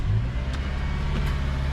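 A Subaru car engine, just freed from a key stuck in the ignition, runs steadily after starting, a continuous low rumble close by with no voices.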